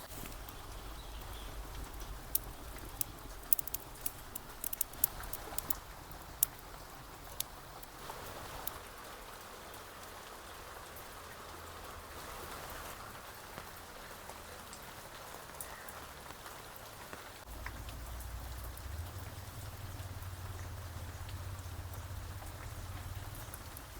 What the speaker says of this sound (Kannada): ಮಳೆ ಇನ್ನೂ ಹನಿತಾನೇ ಇದೆ ಬಟ್ ಲೈಟಾಗಿ